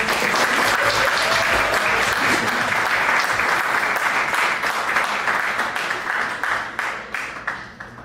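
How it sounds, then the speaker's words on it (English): A large audience at a live event breaks into sustained, dense applause that stays loud for several seconds and then thins out and fades toward the end. "A bigger round of applause."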